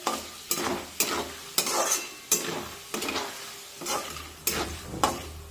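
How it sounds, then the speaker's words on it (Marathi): A spatula stirs chivda ingredients frying in oil, rhythmic scraping strokes about once a second over a continuous close sizzle. "तर आता एकसारखं हे सर्व जिन्नस आपण उलटण्याने असं छानपैकी हलवून घेऊया म्हणजे मग सगळीकडून ते व्यवस्थित भाजले जातील तेलामध्ये छानपैकी तळले जातील"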